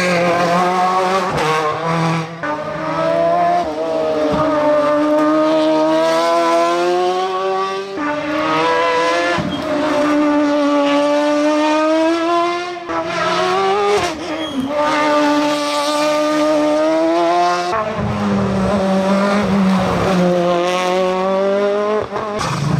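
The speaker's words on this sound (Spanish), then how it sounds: "a ver qué coche aparece por ahí" A rally car climbs the Ibiza hill climb at full throttle, its engine revving loudly and repeatedly through gear changes, rising and dropping in pitch close by.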